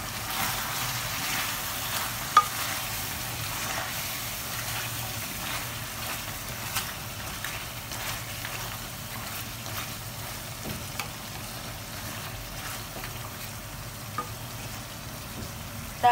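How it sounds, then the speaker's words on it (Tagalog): Pork ribs adobo with sugar being stirred in a pan: a continuous close sizzle of frying with occasional light utensil taps against the pan. "Kasi haluin ko lang, para maluto din yung asukal."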